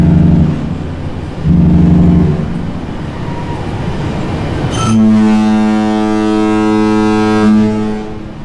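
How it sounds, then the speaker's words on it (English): Two cruise ships, one the Scarlet Lady, trade deep ship horn blasts off Costa Maya, Mexico: two loud, sustained tonal blasts, then a longer, richer horn chord that holds for several seconds, with wind and ambient noise between. "we had an incredible horn battle tonight between the two vessels"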